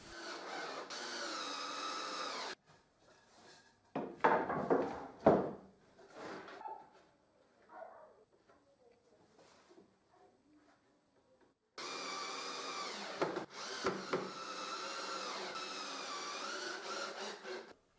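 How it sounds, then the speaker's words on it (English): A power screwdriver drives screws through wooden strips into a plywood board, its motor whining in two long runs of steady buzzing with quieter knocks and handling sounds between them. "I screw them to the board"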